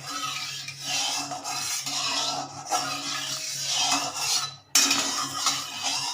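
A spoon stirs and scrapes through hot mustard oil in a metal pan while making raw banana kofta curry, giving a steady close run of clinks and rasping strokes with brief pauses and no talking.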